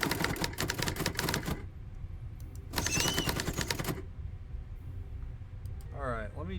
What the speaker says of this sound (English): that typing sounds a little on the loud side